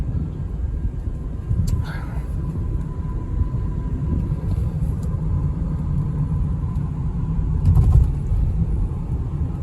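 A 2020 BMW X3 with a four-cylinder engine accelerating, heard from inside as a steady low rumble of engine and road noise with a faint swell near the end; a voice speaks briefly over it.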